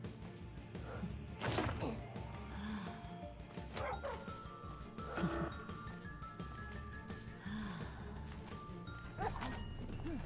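Dog barks in a video game featuring a postman, rising repeatedly over busy game music and sound effects, with several sharp thumps and crashes mixed in.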